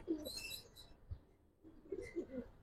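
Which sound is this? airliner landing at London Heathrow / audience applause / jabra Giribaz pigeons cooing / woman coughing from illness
jabra Giribaz pigeons cooing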